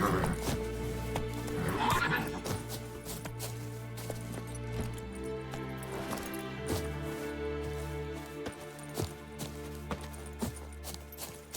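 Roach, the horse in The Witcher 3, whinnies loudly near the start, then gallops with steady rhythmic hoofbeats over a sustained tonal game soundtrack.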